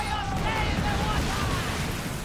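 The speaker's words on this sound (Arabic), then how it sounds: "فجرناهم دول" A loud, continuous rumbling blast from a mortar superweapon in a pirate video game, broad and roaring with no clear separate hits, while voices talk excitedly over it.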